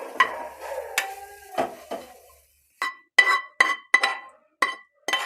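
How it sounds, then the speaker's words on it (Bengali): Paratha filling scraped and poured out of a pan, a series of sharp metal spoon clinks and knocks against the pan in an uneven rhythm, close and fairly loud, no talking. "পুরটাকে আমি ঢেলে নিচ্ছি।"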